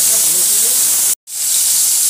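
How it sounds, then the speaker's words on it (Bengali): A tomato dropped into a wok (kadai) holding about three spoons of oil left over from frying eggplant gives a loud, bright, continuous hiss, cut off by a brief silence before the sizzle resumes. "বেগুন ভাজার পর এই কড়াইতে আমার 3 চামচের মতোই তেল আছে, এখানে দিয়ে দিলাম ওই 1টা পাস্ত টমেটো"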